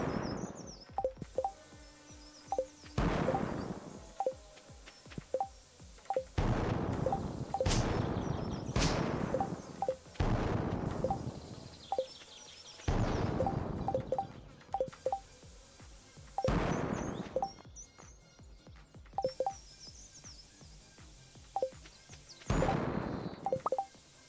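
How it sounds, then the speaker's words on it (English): Bombs exploding on a farm in the video game Stardew Valley: roughly nine loud, broadband blasts at irregular intervals, each with a short rumbling tail, over faint game music and chimes. "all the explosions he heard from your farm"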